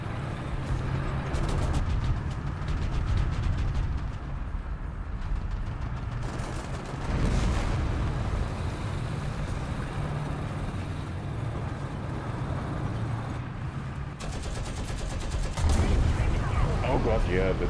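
Repeated bursts of gunfire in a multiplayer shooter video game, loud volleys returning every few seconds over a continuous mechanical and engine-like background din.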